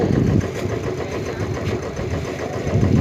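A small walking tractor engine pulls a rice seeder in a field, running at a steady, close, fairly loud chugging idle throughout.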